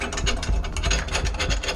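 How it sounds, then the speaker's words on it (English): Bolts being tightened down on a kitchen fixture during installation, a rapid run of close ratcheting clicks with faint rubbing and gear-like chatter, steady and alone without talk. "And then you gotta tighten your bolts down"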